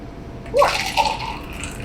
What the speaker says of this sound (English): And pour.